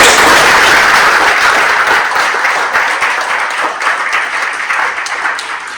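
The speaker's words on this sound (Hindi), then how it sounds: "एक बार जोरदार तालियां सरफराज" Loud applause from a crowd, a dense burst of clapping that starts strong and gradually thins out, close and alone without speech.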